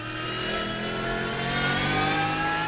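A racing car engine in Assetto Corsa, from a GT Legends Championship mod pack, revs steadily at high pitch. The tone is rich and buzzing, close and continuous, with no talk over it.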